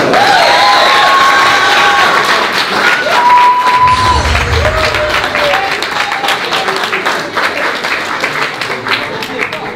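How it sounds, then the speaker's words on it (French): At a Congolese wedding celebration, a crowd of guests claps and cheers continuously, with someone talking loudly over the applause throughout. "Applaudissez pour les personnes."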